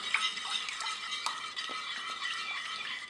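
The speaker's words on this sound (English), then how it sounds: "I'm just going to stir them in together." Tomato paste is stirred into chicken curry in a slow cooker, a quiet close scraping and wet swishing of a spoon with a few light clinks against the pot, no voices.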